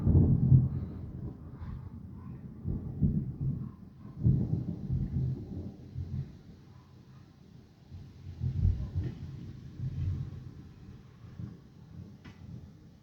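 Thunder from an approaching thunderstorm, several low, deep rumbles rolling and swelling at intervals, with wind buffeting the microphone between them.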